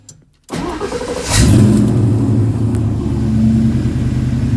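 A Fox Body Ford Mustang with a swapped Coyote V8 engine cranks and catches, then revs up loudly before settling into a steady, rumbling idle close by.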